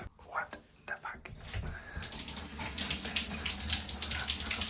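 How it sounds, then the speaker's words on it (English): Shower water pouring steadily in a cave-trip lodging, a broad continuous hiss that starts abruptly after a few seconds of rustling and murmured whispers, close and loud throughout. "Time for a shower."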